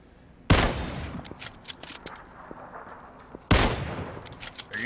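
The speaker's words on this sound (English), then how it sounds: "Now we're getting shot at by them." Gunfire in the battle royale game PUBG: two loud, sharp bursts of shots open and recur a few seconds apart, with lighter scattered pops and echoing reports trailing between them.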